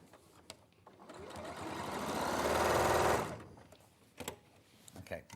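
Brother FS250 sewing machine with a free motion quilting foot running in a steady rapid stitching burst that swells and then stops, with people chatting quietly before and after.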